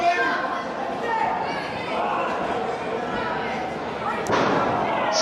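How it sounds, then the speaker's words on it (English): In a pro wrestling tag-team match, a wrestler is body slammed onto his opponent in the ring, giving a heavy thud amid crowd noise and excited commentary. "Slams his only son onto Alan Prophet."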